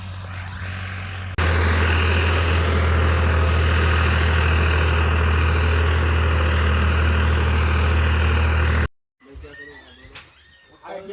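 A farm tractor engine idles with a steady, loud low rumble and drone close by, cutting off abruptly near the end, followed by faint voices and background noise.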